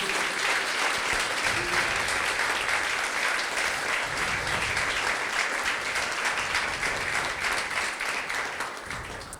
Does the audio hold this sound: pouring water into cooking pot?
no